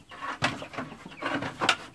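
Buff Orpington chickens in a garden give a few soft clucks and short calls, moderately close, with a gentle outdoor background and nobody talking.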